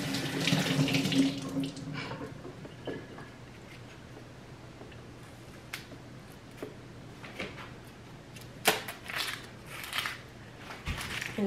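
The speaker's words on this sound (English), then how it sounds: "Here's my onion. I'm just gonna wash it." Tap water runs into a kitchen sink while an onion is rinsed under it, a steady close splashing flow with louder bursts at the start and occasional clunks and handling noises.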